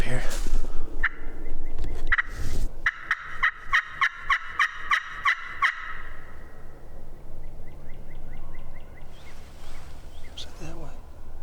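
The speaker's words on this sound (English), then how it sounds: "a bunch of longbeards back in here, it sounds like" Several wild turkey longbeards gobble in a spring woodland during a hunt, repeated rattling gobbles ringing out at moderate distance, some overlapping in bursts, with a few quieter calls following.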